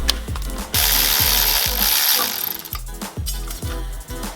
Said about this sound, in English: Josh is removing the manifold